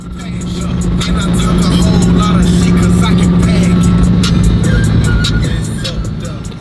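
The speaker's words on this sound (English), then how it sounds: "we got the car out for a drive now" Steady engine hum and road noise from a Ford F-150 pickup cruising along, heard from inside the cab, with occasional clicks and light rumbles over the drone.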